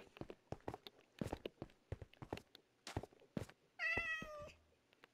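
A cat gives one clear, fairly close meow near the end, preceded by a run of soft thumps and steps in a quiet indoor room.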